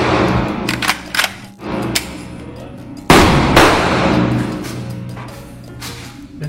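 Gunfire at a shooting session, with several sharp, loud reports and one especially heavy blast midway, each trailing off into ringing ambience and background noise.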